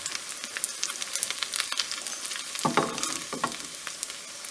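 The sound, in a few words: ullivada onion fritters frying in oil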